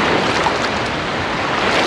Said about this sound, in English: I can feel all the waves going in between my feet where they're meeting.